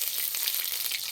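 A spoonful of ghee heating in a kadai, a soft steady sizzle with faint fizzing crackles, close and continuous with no talk.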